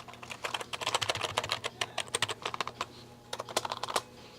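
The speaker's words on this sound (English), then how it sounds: "I like the click of these buttons" Rapid, crisp clicks of keyboard keys being typed on nearby, in uneven bursts with a brief pause partway through, fairly quiet and with no voices.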